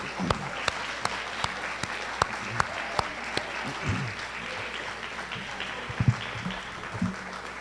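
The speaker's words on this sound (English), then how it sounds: "give yourselves a round of applause for a great time" A junior high awards audience claps for students back from a DC trip, a steady patter of applause punctuated by a few sharp, regular near claps, with some murmured voices underneath.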